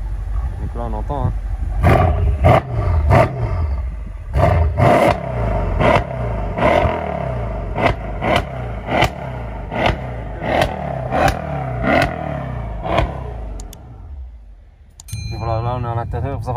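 A Mercedes S63 AMG engine revs hard in a rapid series of about a dozen loud, sharp blips with crackling between them, then falls quiet before a brief rumble returns.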